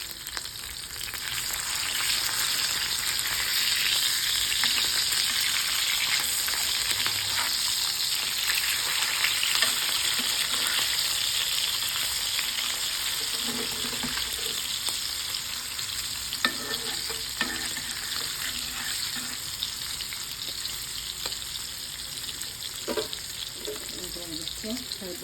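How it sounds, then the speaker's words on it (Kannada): Anjal fish fries in hot oil in a pan, giving a steady, close, crackling sizzle that runs unbroken throughout, with a few soft clinks and stirs scattered through it and no talking. "ಅದು ಫ್ರೈ ಆಗಲಿ, ಮುಚ್ಚಿಬಿಡೋಣ"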